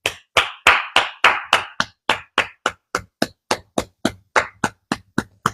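A single person claps their hands about eighteen times, close by, in a steady rhythm that starts loud and flurried and then settles into evenly spaced, slightly quieter claps.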